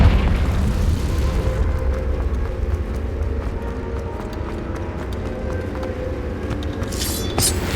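A Confringo spell explodes in the video game Hogwarts Legacy, a loud booming blast that opens the clip and rolls into a sustained heavy rumble, with a brighter crackle near the end.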